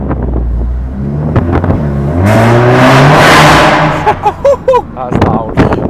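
A Mk8 Volkswagen GTI with its petrol particulate filter deleted roars as the engine revs hard, rising to a loud sustained blast, then cracks and pops as it settles, with brief voices around it.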